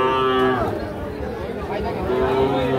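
Young bull calves moo with long, drawn-out calls at Ambari cattle market, one near moo opening and another rising toward the end, over a steady murmur of crowd chatter and talk.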